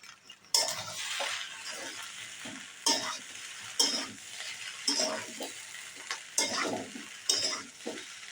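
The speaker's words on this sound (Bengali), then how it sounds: "টমেটো সসটাও পাস্তা, সবজি সমস্ত কিছুর সঙ্গে ভালোভাবে মিশিয়ে নেব।" Pasta and vegetables are stirred with tomato sauce in a sizzling pan, with a utensil scraping and clinking against the metal in repeated strokes about once a second over a quiet background fry, and no talking.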